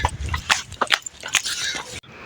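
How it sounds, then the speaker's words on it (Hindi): Dogs barking at night somewhere along a dark road, a series of short sharp barks in an uneven rhythm, fairly close and clear, with no talk over them. "यहाँ पे कुत्ते वगैरह की भी आवाज़ आप लोगों को आ रही है"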